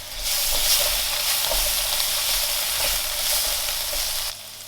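Garlic fries in a hot pan with a loud, dense, continuous sizzle heard close up, steady for several seconds before cutting off abruptly.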